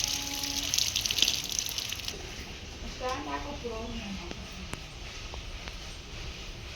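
Rice-rinsing water is poured onto garden plants in a short splashing gush at the start, then fades as a person talks nearby.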